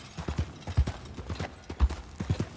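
A horse's hooves clip-clop at a quick, steady pace across the ground in Red Dead Redemption 2. The hoofbeats come close and fairly soft in uneven pairs, with no talking over them.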